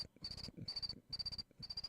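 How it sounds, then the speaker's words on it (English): Crickets chirp in four steady bursts of rapid pulses, each burst lasting about a third of a second, repeating at an even rhythm, close and clear with no voices. "Crickets."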